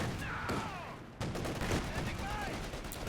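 Rifle squad gunfire pours into a .50 cal machine gun position in Company of Heroes 2, a dense crackle of overlapping shots with a brief lull, under distant battle noise and faint speech.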